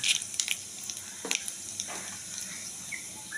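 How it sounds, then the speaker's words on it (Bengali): Cumin seeds dropped into hot oil for chana masala, a faint, steady crackling sizzle with a few soft clinks, heard close up without speech. "তেলটা গরম হয়ে গেছে, দিয়ে দিলাম জিরে"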